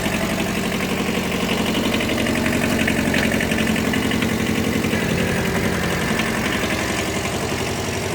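Kubota Bulltra 10 mini tractor engine driving in low gear, a steady, close, continuous mid-low drone with slight knocking vibration and no breaks.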